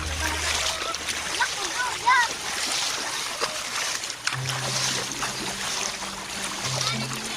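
Water splashes and sloshes as people wade across a clear provincial river in Tabaco City, with irregular splatters near the microphone and voices talking over it throughout.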